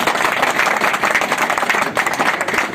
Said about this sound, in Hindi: विवेक के लिए एक जोरदार ताली।